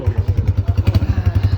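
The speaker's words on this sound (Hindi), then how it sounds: "चलते हैं, इमरान भाई गाड़ी चलाएंगे" A Honda 125 motorcycle pulls away with a quick, even thumping engine beat, a close and fairly loud low chug that repeats rapidly and steadily throughout.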